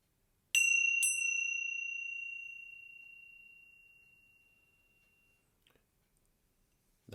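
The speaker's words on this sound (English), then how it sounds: "That can be called the mindfulness bell." A mindfulness meditation bell struck twice in quick succession, a clear bright ring that decays slowly over several seconds in an otherwise quiet space.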